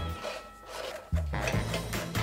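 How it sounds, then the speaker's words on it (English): A sharp knife shaves excess baked pastry off the rim of a s'mores tart, giving soft rasping scrapes, quiet at first and then a louder stretch of repeated strokes. "I'm now going to take a sharp knife and shave off the excess pastry."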